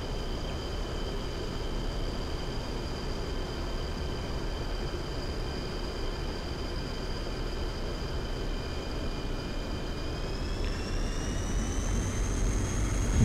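A MiG-21 jet engine in the DCS World flight simulator hums with a steady whine during a low landing approach, and the engine tone rises toward the end as thrust increases.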